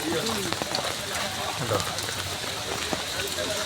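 Steady, dense hiss of rain falling on surfaces fills the whole stretch, fairly loud and even, with faint scattered taps.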